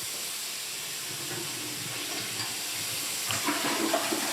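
A toilet flushing in a guest bathroom. The water rushes with a steady broadband hiss throughout and swells toward the end as the bowl refills, with no voices.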